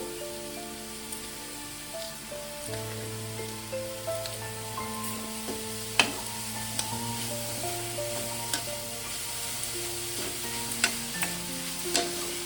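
Grated carrot, coconut and sugar being stirred in a pan for carrot patishapta filling, heard as a soft steady sizzle with occasional scraping taps of the spoon, all under sustained background music.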